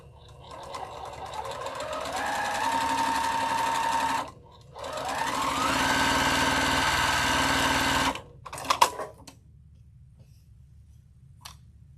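A sewing machine stitches seams in two sustained, close bursts of rapid mechanical whirring, each lasting several seconds. A short pause separates them, and a few clicks follow as the fabric is handled.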